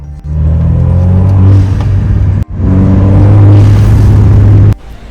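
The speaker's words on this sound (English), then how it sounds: "Essentially makes the car have a blow-off valve." A 2.0-litre turbo Alfa Romeo Giulia fitted with a replacement engine and a SILA blow-off valve adapter plate revs loudly twice, each deep sustained roar ending in an abrupt cutoff with a sharp burst.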